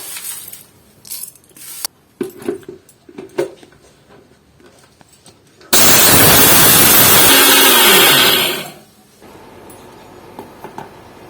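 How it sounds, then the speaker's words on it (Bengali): Scattered light clinks and taps of jars and spoons lead into a burst of an electric grinder powdering ingredients for homemade chocolate Horlicks, a loud, harsh whir lasting about three seconds before cutting off, followed by a few more small clatters. "এবার এগুলো আমি গুঁড়ো করে নেবো"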